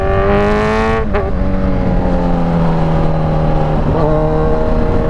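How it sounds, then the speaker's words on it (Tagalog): Two cars chasing each other on a road, engines droning loudly and close with rising and falling pitch as they accelerate and shift, one continuous roar with no talk. "Naghahabulan yung dalawang kotse na to."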